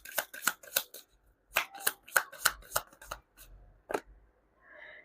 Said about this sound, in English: You saw me shuffle as always.